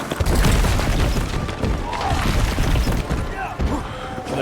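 A flashbang grenade goes off in a video game with a wide, booming crash, and the rumble and ringing hold for several seconds under dense game noise.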